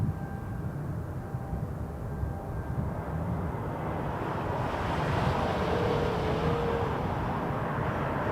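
An EgyptAir Boeing 787-9 Dreamliner taxis for a north departure at Toronto Pearson, a steady low jet engine rumble with faint tonal whine, rising slightly in loudness midway, heard from a distance with wind noise and no talk.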